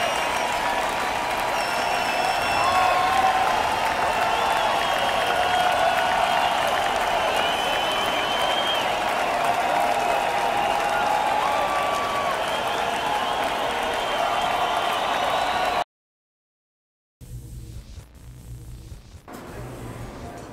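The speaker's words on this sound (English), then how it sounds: "Give a round of applause for the top shoppers of the day!" Crowd applause in the RB Battles shopping video game, a dense continuous roar of clapping with cheering for the top shoppers. It cuts to silence near the end, then a quieter stretch of noise follows.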